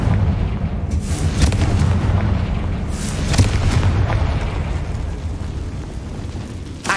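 Confringo blasting spells explode in the Hogwarts Legacy video game, heavy booms with crackling bursts rising over a sustained rumbling roar, with no voices heard.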